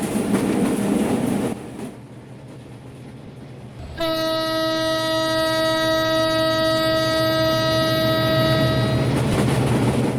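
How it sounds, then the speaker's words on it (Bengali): A Kapotaksha Express locomotive sounds a long, loud, steady horn at a road level crossing. The blast begins a few seconds in and holds for about five seconds over continuous train rumble and running noise. "লম্বা একটি হর্ন বাজিয়ে একজন সাইকেল আর একজন ভ্যান মামাকে অপেক্ষা করিয়ে বেশ ভালোই গতিতে আমাদের ট্রেনটি লেভেল ক্রসিং অতিক্রম করলো"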